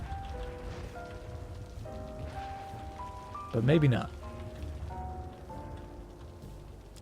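Steady rain hiss in the city-building game Cities: Skylines, a thunderstorm setting, runs under a voice and background music, with one brief louder swell partway through.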